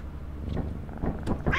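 A cat meows in the video game Lethal Company, a short strained call at the end rising out of muffled thumps and low background noise.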